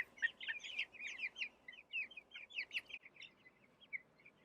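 High, thin peeping of small broiler chicks on the ground, rapid overlapping chirps in quick bursts, fairly faint and somewhat distant.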